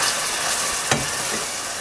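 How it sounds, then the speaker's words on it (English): Cream is whisked into a hot roux for clam chowder, giving a dense, steady sizzling hiss with a brief clink of the whisk against the pot, up close and without speech. "you whisk that cream in"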